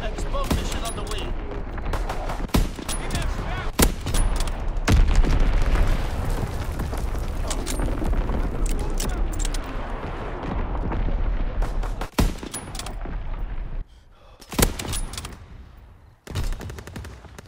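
Fritz X bombs and artillery fire in Call of Duty: WWII: loud rolling explosions and rapid gunfire pound continuously, with sharp blasts breaking through and brief quieter gaps near the end.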